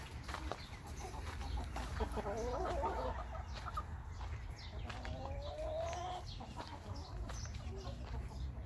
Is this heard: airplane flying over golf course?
no